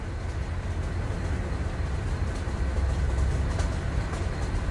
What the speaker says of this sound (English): But the train just keeps going faster.